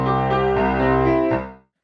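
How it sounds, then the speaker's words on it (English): Sustained harmonic synth tone thickened by a chorus effect that doubles and slightly detunes it, holding steady before fading out, with no voices. "what chorus basically does is it doubles up the audio signal, but with the double signal it slightly detunes it a little bit"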